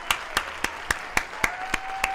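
A steady run of about eight evenly spaced hand claps, close and fairly crisp, celebrating a win in an Uber tier game, with no talking.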